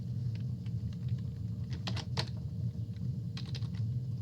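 A computer keyboard and mouse click and clatter in short bursts of typing, quiet and close, over a steady low hum in a room, with no one speaking.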